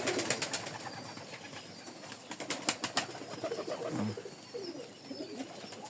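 A mother pigeon feeds its chick on a hot summer day, with soft close cooing and faint flutters against a quiet background. A few sharper sounds come in the middle.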